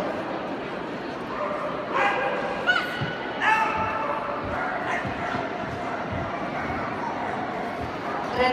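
A well-trained dog barks and yips at a stranger approaching its owner, several sharp barks in the middle against a constant noisy outdoor background, moderately near.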